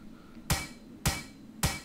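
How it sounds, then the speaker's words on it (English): Three sharp, evenly spaced hammer strikes from the survival video game Plains of Pain, each a loud close impact with a brief ringing tail, alone without speech. "let's grab a hammer and try this out"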